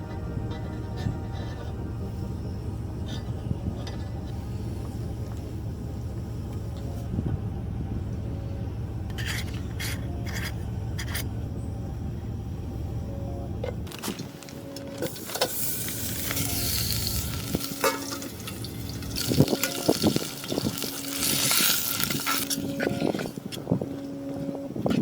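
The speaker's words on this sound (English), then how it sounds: "It actually seems like my camp stove is struggling a little bit." Isobutane camp stove burning weakly in subfreezing winter cold at an Appalachian campsite, a steady close hiss and roar that shifts partway through into brighter, noisier flaring with small clinks and rustles around it.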